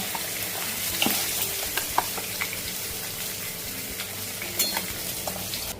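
Katla fish roe frying in hot oil, a steady close sizzle with occasional clicks and stirring scrapes from the pan.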